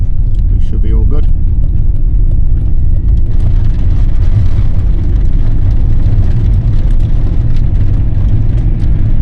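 A Mercedes C180 accelerates up a steep mountain passing lane on New Zealand's Mount Messenger road to overtake a truck, its engine a loud, continuous close drone inside the cabin, with a voice briefly talking early on.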